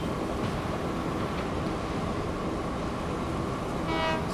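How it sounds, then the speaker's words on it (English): Train horn in Transport Fever 2, a short tonal toot rising near the end over a continuous rumble of rolling rail cars, fairly loud and close. "Sound its horn."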